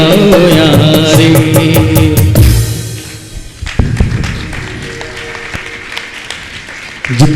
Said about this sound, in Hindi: जितना सुंदर गीत है उतनी सुंदर आपकी तालियां नहीं है।